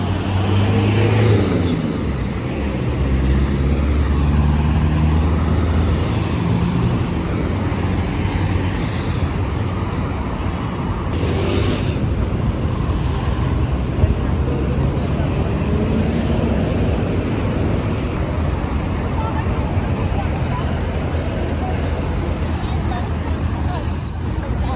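Peak-hour city traffic on an Abu Dhabi street at night, a continuous loud wash of passing cars and engine roar with distant aircraft hum, under steady crowd babble and nearby talk.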